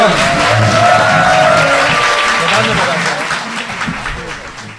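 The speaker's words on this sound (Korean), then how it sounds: "박수 부탁드립니다." Audience applause in a Korean talk-show studio, a swell of clapping that fades out over a few seconds, with voices speaking over it.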